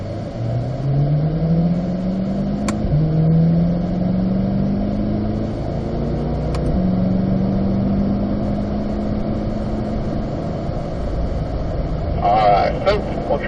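A car lapping the track at the Michelin Ron Fellows Driving School pulls hard, its engine note rising through several gears in a stepped climb, with a short burst of other noise near the end.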